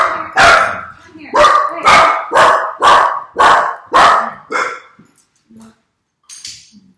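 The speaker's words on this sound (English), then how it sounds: "I don't know why you're barking so much today." Dog barking repeatedly, about eight sharp, loud barks in a steady rhythm close by, tapering to softer yips and whimpers before a brief pause and a final quieter sound.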